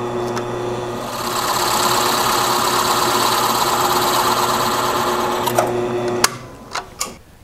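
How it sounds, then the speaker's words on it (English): A drill press with a 1¼-inch spade bit counterbores a wooden board, its motor whining steadily and loudly for several seconds before it winds down, followed by a few knocks and clatters. "Using the 1¼-inch spade bit, we're going to counterbore just down to the surface so that the collar around the pipe will sit down flat."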